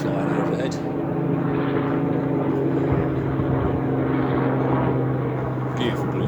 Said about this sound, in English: the RAF guys are just flying overhead